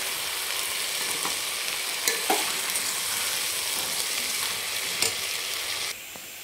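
Rice sautéed in oil with spices, ginger-garlic and tomato for mutton biryani, a continuous even sizzle with occasional light knocks of a spoon stirring the pot.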